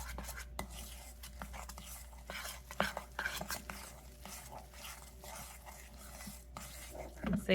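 Wet ingredients being mixed into low-carb hushpuppy dough in a bowl, soft close stirring and scraping with a few light clinks, fairly quiet and continuous.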